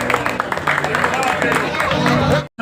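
An audience at a Ramlila stage event claps and cheers, a dense, close burst of applause with crowd chatter that ends abruptly.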